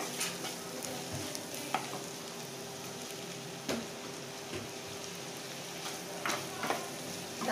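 Tomato and onion fry in oil for a spicy prawn roast, a constant crackling sizzle broken by occasional sharp scrapes and taps of a spoon against the pan.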